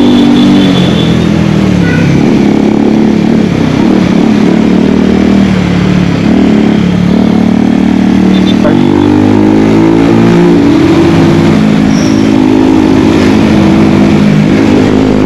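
Bajaj Pulsar 180, NS 200 and a scooter racing, with continuous loud engine drone and revving close by throughout, rising and falling as the bikes accelerate.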